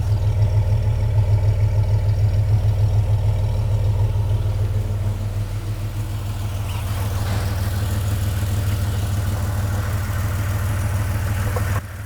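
A Jeep WJ engine with a modified exhaust, twin catalytic converters and a large factory muffler idles close by, giving a steady low throb with faint clatter that dips slightly partway and keeps going with no talking.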